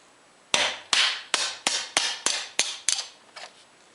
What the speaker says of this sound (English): I'll remove this 1/2-inch knockout on the side of the service panel with a metal punch and a hammer